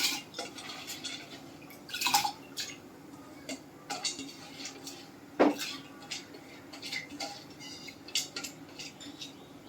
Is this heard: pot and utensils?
yes